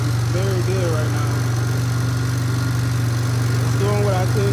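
A Polaris Sportsman 500 ATV, started after sitting six years, idles slightly high with a steady, even mid-pitched engine drone while someone talks over it.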